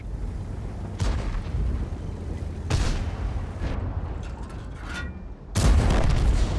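Tank cannon shots and explosions in a tank combat video game, several heavy booms spaced a second or two apart over a constant low rumble, the final blast loudest and close.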